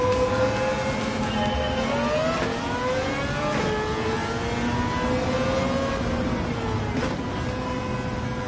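A Mazda RX-7 with an engine swap revs in a racing game, a loud, close engine note whose pitch rises and falls in sweeping waves, sustained and smooth with no speech over it.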